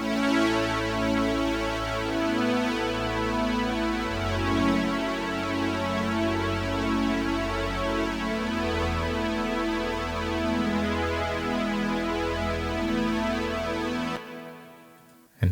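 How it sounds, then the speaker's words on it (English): An Oberheim synth from Arturia's software collection plays a sustained, rich harmonic pad with a steady pulsing rhythm for about fourteen seconds before stopping abruptly, heard alone. "And then we have the Oberheim synth."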